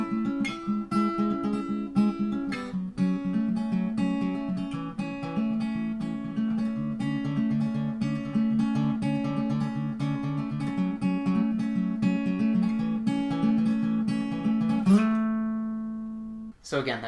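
An acoustic guitar plays the fingerpicked verse pattern of a song, steady arpeggiated notes ringing clearly for about fifteen seconds before a final strum and fade.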